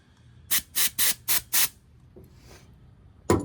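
Carburetor cleaner sprayed through the passages of a Nibbi 30mm PE carburetor from an X-Pro Templar 250: five loud, close hissing bursts in quick succession, a short pause, then a sharp knock.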